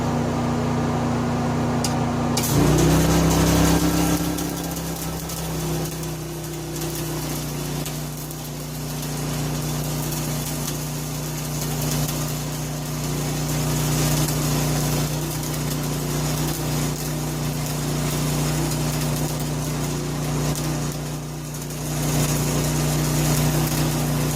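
Inverter arc welder running at about 55 amps off a Honda EU series generator, a steady mechanical hum and drone with low tonal bands persisting for the whole stretch after a brief quieter start, no talk over it.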